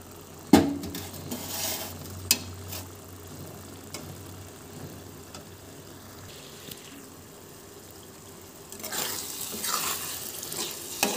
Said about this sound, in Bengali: আবারও আমি একটু নেড়ে দিলাম।